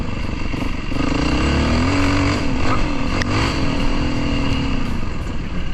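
A Yamaha 450 WRF enduro motorcycle climbs under full throttle, its engine buzzing loud and close with steady high revs and slight rises and dips in pitch, without talk.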